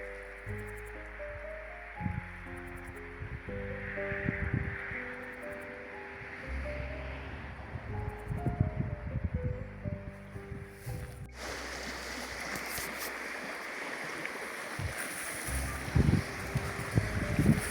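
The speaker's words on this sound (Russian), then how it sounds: "А там внизу как будто река шумит. Наверное, река и шумит." A taiga stream flows through forest on a road trip through Yakutia. Other tonal sound fills the first part, then a loud, steady broadband rush of running water takes over close by for the rest, with no talk.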